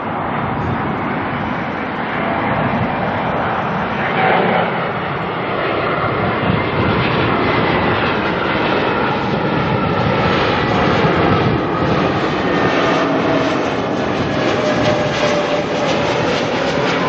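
An Air New Zealand Airbus A320neo arriving from Sydney at Auckland Airport gives a steady, moderately loud jet roar with a faint whining tone sliding downward, heard alone without voices.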